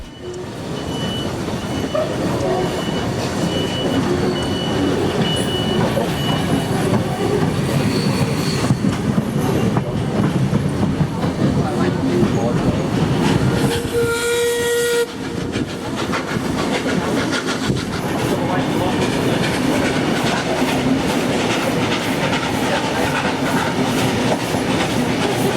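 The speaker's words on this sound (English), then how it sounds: "The two locos now reached Branxton." Two steam locomotives haul a train during the Hunter Valley Steamfest in New South Wales, rumbling loudly and steadily up close with rhythmic clickety-clack of wheels on rail joints and a brief squealing tone midway.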